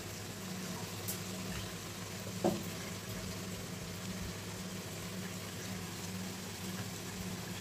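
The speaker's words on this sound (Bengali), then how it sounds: "একটু ব্রাউন কালার করে ভেজে নেবো।" Chicken chaap fries on full gas, a steady, fairly faint hiss and crackle of oil running throughout, with one brief clink of a utensil partway through.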